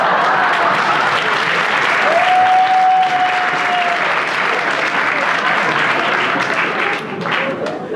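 A comedy show audience applauds in a thick, continuous roar of clapping, with a brief whistled tone rising above it early on before the sound eases slightly near the end.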